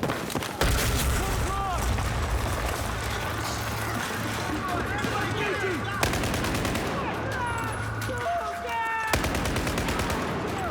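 Gunfire in a video game, a run of sharp bursts and rattling volleys breaking over a constant low drone, with voices talking in between.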